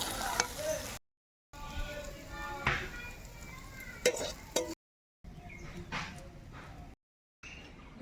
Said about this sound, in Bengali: পেঁয়াজটা ভাজা হয়ে গেছে, এবার তুলে নেব।